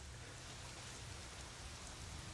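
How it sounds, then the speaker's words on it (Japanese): Steady rain falls in the horror game Fatal Frame: Maiden of Black Water, a continuous dense hiss of drops on surfaces with no breaks, low rumbling undertone, heard alone without voices. "もう雨降ってる。"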